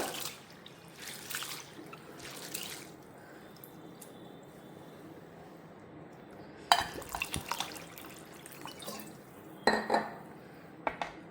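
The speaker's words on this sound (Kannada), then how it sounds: "ಇದಕ್ಕೆ 1-2 ಬಾರಿ ನೀರಿನಿಂದ ಚೆನ್ನಾಗಿ ತೊಳೆದು ಅದು ಸ್ಟಾರ್ಚ್ ಎಲ್ಲ ತಕ್ಕೋಬೇಕು" Water sloshes and trickles in a bowl as sago pearls are washed, then the pearls swirl and rattle with clinking against the sides in bursts, with no talking.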